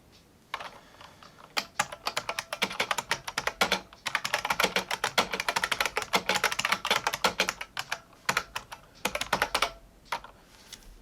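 Fast typing on a custom split IBM Model M buckling spring keyboard, with loud, crisp clacking keystrokes in rapid uneven bursts and a few short pauses, close and alone.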